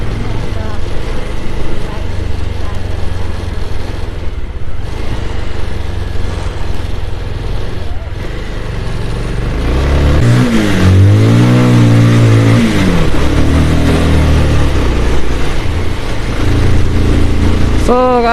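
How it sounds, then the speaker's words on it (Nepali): A Bullet motorcycle being started in cold weather gives a rough, loud engine rumble that builds and then revs up and down in rising and falling sweeps, with someone talking over it. "बाइक फेरि मेरो बुलेट स्टार्ट हुन्छ कि हुँदैन"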